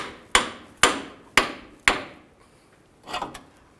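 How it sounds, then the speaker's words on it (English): Four sharp, evenly spaced hammer taps drive a GMC Yukon idler arm assembly into place, close and crisp, then a softer scraping knock trails after a short pause. "I have to tap this in place."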